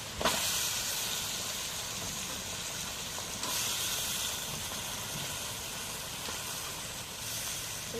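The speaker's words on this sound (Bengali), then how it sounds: "এখন মশলাটা লাল লাল কষানো হয়ে গেছে, মাংসগুলো দিয়ে দিই।" Pieces of home-raised local chicken hit a pan of red-fried spice paste, setting off a loud, steady steam-like hiss and sizzle that holds for the whole stretch with slight surges.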